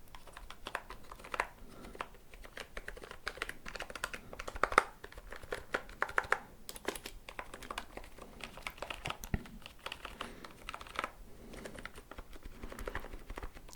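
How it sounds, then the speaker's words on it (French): A membrane computer keyboard that is switched off is typed on in a steady stream of soft, muffled key presses and light clatter, fairly close and quiet. "Ah, les touches, ça s'entend. Ça s'entend que c'est de la membrane."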